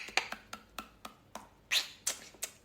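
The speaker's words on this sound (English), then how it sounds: "clack our teeth together" Teeth clacking together during a breath-focused dance workshop, a quick series of about ten crisp taps in an uneven rhythm, close and quiet with no talking.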